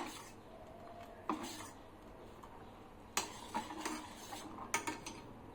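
Uggu baby porridge stirred with a spoon in a pan over a medium flame on the stove, giving a few soft scraping and clinking strokes against the metal, close and quiet with long pauses between them.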